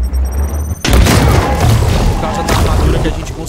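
A grenade blast in W40k: Chaos Gate - Daemonhunters bursts in suddenly after a short low hum, then a loud, sustained crackling roar of debris and fire carries on to the end, close and dominant.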